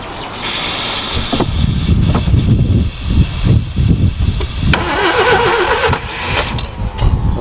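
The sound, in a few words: Subaru Brumby ute engine starting and revving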